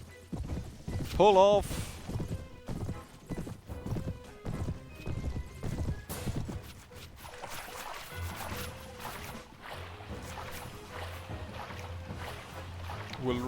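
Horses gallop in a cavalry charge in Mount & Blade Warband, their rapid hoofbeats and a whinny riding over a busy battle din while a voice shouts a short command.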